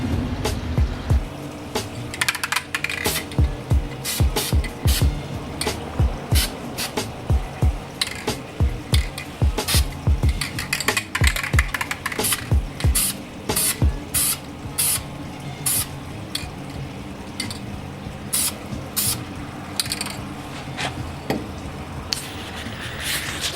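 A spray can coats a BMW 3-Series car part in black paint, with short bursts of hissing spray repeated in a steady stop-start rhythm, close by and without talk.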